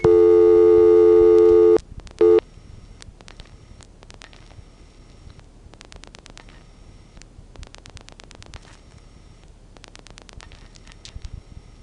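Multi-frequency telephone signalling tones from a crossbar tandem in a 1974 central office, a bright steady tone burst followed by quick trains of short, sharp pulsed tone bursts over faint line hum.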